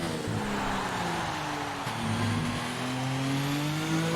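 Racing car engine from a motor-racing video game, German Grand Prix replay, held at low revs in fourth gear through a corner: a steady, loud droning engine tone with slight pitch shifts, no talk.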